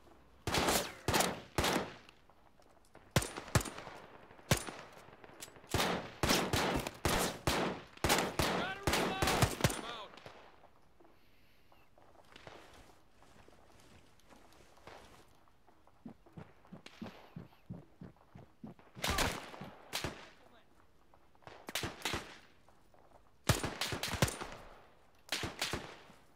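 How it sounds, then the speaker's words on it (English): Rapid bursts and single cracks of rifle and machine-gun fire in the WW2 shooter ArmA 3 Spearhead 1944, loud and near in dense volleys, then sparser with pauses and quieter distant shots. "He's shooting at me."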